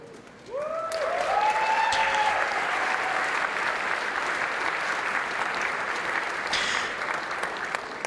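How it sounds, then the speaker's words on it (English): Audience applause and cheering at a Nintendo DS presentation, a dense, steady roar of clapping and cheers that swells in quickly and holds loud throughout, with a few whoops rising above it. "Second cheer, maybe not as big as the first."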